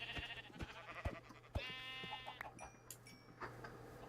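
Sheep in the Minecraft video game bleat in short quavering calls, faint and separated by clicks and small game sounds, with no talking over them.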